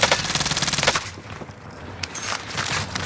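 Rapid automatic gunfire in Call of Duty Cold War Warzone, a fast, evenly spaced burst of close shots that stops after about a second, followed by scattered fainter shots and impacts.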